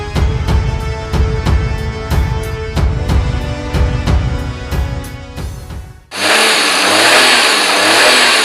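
A Maruti 800 car engine, just given a timing adjustment, revs close by in repeated sharp, rhythmic bursts, then rises into a loud, sustained high rev toward the end.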